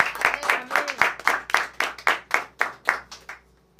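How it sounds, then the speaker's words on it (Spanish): Church congregation applauding the Lord during a sermon, a run of about a dozen distinct, fairly close claps in a quick, even rhythm, a brief voice heard near the start, fading out at the end. "Vamos a dar un aplauso al Señor."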